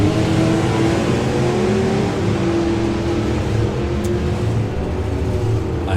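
A gasser drag race car at a Dragstalgia drag meet roars loudly and steadily at full throttle, a continuous dense engine drone with no speech over it.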